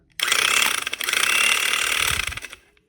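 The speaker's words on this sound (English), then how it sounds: "Now let's try the startup of the Black & Decker utility hedge trimmer." A Black & Decker utility hedge trimmer powered by a portable power station starts up with a sudden loud buzzing rattle of reciprocating blades, running steadily close-up for over two seconds before stopping and winding down.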